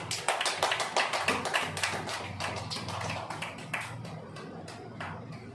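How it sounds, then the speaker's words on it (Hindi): Group clapping at a Christian gathering, with a rhythmic cluster of hand claps repeating steadily, dense and moderately loud, fading slightly toward the end. "ताली है, ताली ताली"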